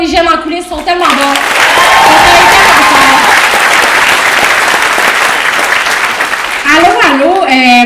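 Audience applause at a live stand-up comedy show, a dense sustained clapping crowd that swells and holds for several seconds, with a voice talking over it at the start and again near the end.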